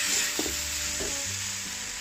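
Chicken slices with three-color capsicum are stir-fried after a little cornstarch thickening goes in, giving a loud, continuous sizzle broken by a few quick scraping stirs of the spatula, with no talking.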